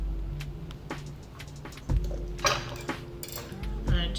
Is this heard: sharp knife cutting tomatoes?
yes